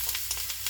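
Green pepper with white and purple onion sizzling in a hot pan, a steady bright hiss with soft pulsing crackles throughout, close and fairly quiet.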